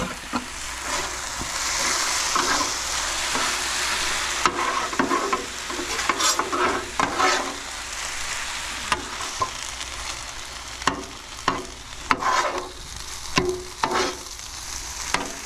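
Diced tomatoes being stirred into a pot of jambalaya at a campsite, with steady scraping and clacking stir strokes over a continuous sizzle, close and fairly loud, with no talking.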